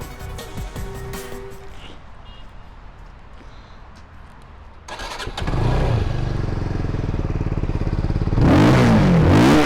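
A Benelli TRK 251 motorcycle engine clatters to life, then idles with a deep, loud chugging before revving up to a louder roar near the end.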